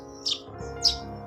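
A house sparrow chick being hand-fed gives two short, high chirps close by, with a quiet pause between them and no talking.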